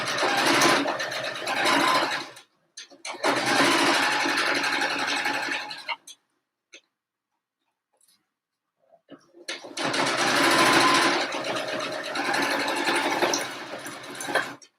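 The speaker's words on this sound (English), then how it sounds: "And you are going to just sew across the entire edge." A sewing machine stitches across the edge of a homemade fabric mask, running in three loud, close buzzing bursts with short pauses and a longer silence between them, and no talking.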